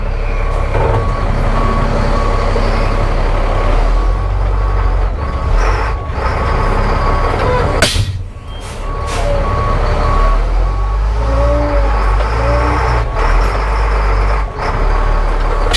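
A semi truck bought at a government auction, in reverse with its reversing alarm beeping steadily over a loud idling diesel rumble, close by, with a brief dip in the engine noise midway and no talk.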